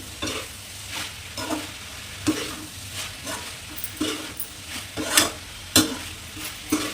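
Cauliflower and prawn masala curry is stirred in a sizzling pan, with repeated scraping strokes roughly every half second to second over a continuous frying hiss, fairly close and with no talk.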